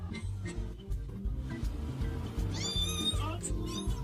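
A cat meows several times with rising, wavering cries, heard among a background of repeated low thumping and people talking excitedly nearby.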